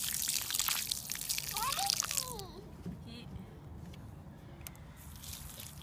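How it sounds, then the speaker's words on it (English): Water is poured onto a potted plant, a brief splashing trickle that fades after a couple of seconds while a person speaks nearby. "Don't water the Grub, water the plant"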